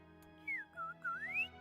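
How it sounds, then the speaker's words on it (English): A character whistles a bright, sliding tune in the Genshin Impact video game while kite-making: several rising and falling whistled notes, clear and close, over a soft background music bed with no talking. "imagine being able to whistle"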